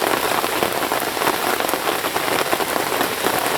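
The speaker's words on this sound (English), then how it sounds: "that rain is proper coming down now, and I'm getting drenched." Heavy rain pours down at a carp fishing lake in summer, a dense, loud, unbroken hiss of drops drumming on surfaces close by.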